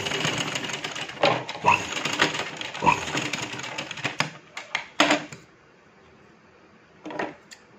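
Sewing machine stitching fine pin tucks in cloth, rapid rattling bursts of stitching with short pauses, close, then a quiet gap and one brief final run.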